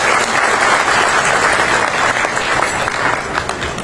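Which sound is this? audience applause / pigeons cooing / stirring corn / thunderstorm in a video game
audience applause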